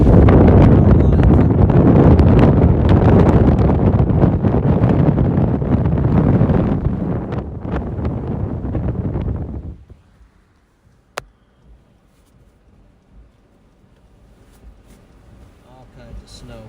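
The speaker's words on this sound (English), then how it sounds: "Just a full-on steady wind." Strong, steady wind roars loudly during a full-on blizzard north of Shelby, Nebraska, buffeting a car for about ten seconds before dropping abruptly to a quiet hush with a single sharp click.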